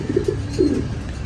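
Pigeons in a loft giving soft low cooing calls, a few close rolling coos over steady background noise, with no talking.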